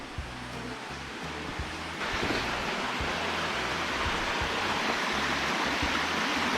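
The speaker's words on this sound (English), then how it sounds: "It's like another water crossing." Steady rushing water of a shallow rocky stream being crossed fills the scene near Walhalla, South Carolina, growing a bit louder partway through, with low rumbling underneath.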